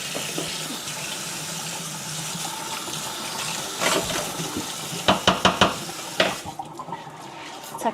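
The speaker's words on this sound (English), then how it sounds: "I will clean that board and wash my hands." Tap water runs steadily into a sink while a chopping board and hands are washed, a continuous splashing wash with a few sharp clatters near the end.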